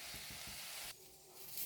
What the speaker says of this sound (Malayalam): ഇനി അതുവരെ നമുക്കൊന്ന് വറുത്തെടുക്കാം.